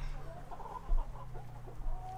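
A dark hen clucks softly in a farmyard coop, a few short muttering clucks against a low steady hum, fairly close and alone without talk.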